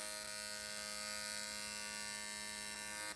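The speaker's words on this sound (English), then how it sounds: "he's going to do a couple of just test welds just to see how this Ferrari aluminum is" Test welds on aluminum from a fire-damaged Ferrari F430, a steady buzzing hum with a high electrical whine held continuously for about three seconds before cutting off abruptly, close and alone without talk.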